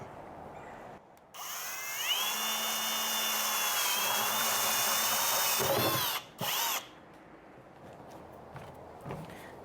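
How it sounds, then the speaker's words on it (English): A power drill bores into plastic plant buckets, one long high whine rising in pitch and holding for several seconds, then a couple of short bursts before stopping. "there's 4 drill marks in these buckets and we're gonna drill 4 holes."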